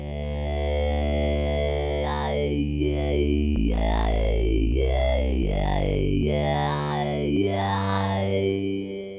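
Moog Matriarch synthesizer playing a vocal formant patch with high filter resonance, a sustained buzzy tone whose resonant peaks sweep up and down like a voice forming vowels, with stepped bass notes underneath.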